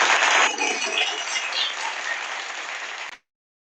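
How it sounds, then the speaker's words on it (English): Audience applause at a conference session on post-pandemic economic recovery, a broad wash of many hands clapping, strong at the start then settling and continuing evenly before cutting off abruptly near the end. "Can we have a huge round of applause for Rama sir?"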